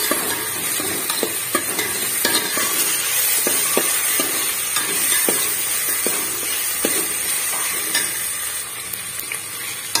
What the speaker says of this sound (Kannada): ಚೆನ್ನಾಗಿ ಎಣ್ಣೆಯಲ್ಲಿ ಫ್ರೈ ಮಾಡಬೇಕು ಇವಾಗ ಟೊಮೆಟೋನ ಹಾಕೋತಾ ಇದೀನಿ